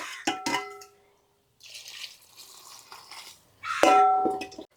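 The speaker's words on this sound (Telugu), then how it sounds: "కాళ్ళు మునగ వేడి నీళ్ళు పోసుకుందాం." Hot water is poured over chicken feet in a vessel, heard as a few separate splashes and pours with metallic clinks between quiet gaps. The sounds are fairly close, and a louder gush comes near the end.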